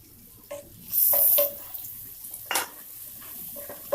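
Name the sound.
onions sautéed in a pan for paneer butter masala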